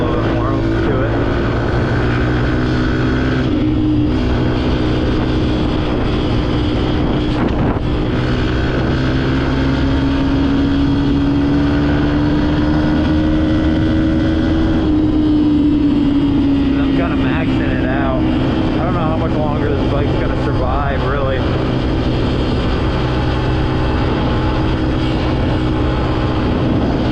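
Dirt bike engine held wide open on back roads, a loud, sustained droning roar with pitch climbing and settling as the rider shifts, wind noise mixed in, and speech briefly underneath.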